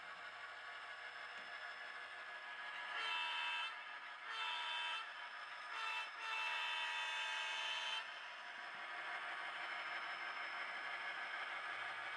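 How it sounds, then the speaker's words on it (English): A small electronic locomotive horn on an HO scale SD40T-2 model locomotive toots in several bursts of varying length, with a quiet mechanical hum underneath. "F2 sounds the horn"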